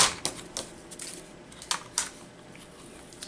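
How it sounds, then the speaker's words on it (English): A paper trimmer slices through stacked sheets of paper for a journal cover craft project, giving a few sharp, dry cutting strokes with quiet pauses between them, close to the microphone and with no talking. "Or actually I could use the paper trimmer."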